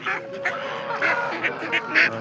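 Geese honk in a series of short, nasal calls at a poultry sale, repeating roughly every half second against a steady background murmur of other fowl.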